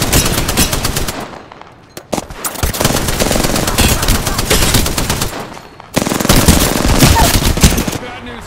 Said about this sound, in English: Shots fired, and they're hitting me. Getting shot at.